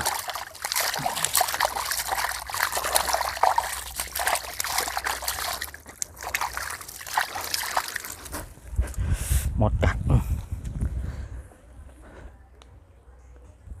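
Water trickles and splashes into a container as it fills outdoors while green-plant compost is being made, a continuous close pour that swells toward the end, with a person talking over much of it.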